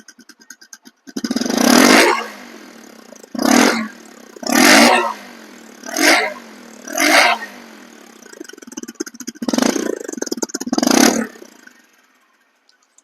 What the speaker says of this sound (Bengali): পিক আপ দিয়ে সাউন্ডটা শুনুন